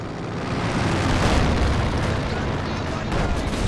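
A grenade going off in Company of Heroes 2, a dense rumbling blast with low booming debris that swells and slowly decays under battlefield noise.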